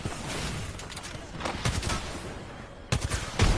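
Gunfire rattles in a video game as rapid bursts of shots with a few louder reports close together, with no clear talk.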